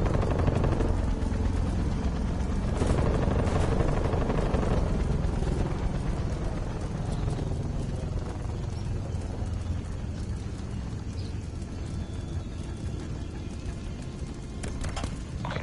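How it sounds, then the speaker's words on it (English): Attack helicopter from the Call of Duty Black Ops Cold War multiplayer game flies overhead, a steady loud rotor drone lasting throughout with scattered gunfire and game effects mixed in. "Enemy attack helicopter above."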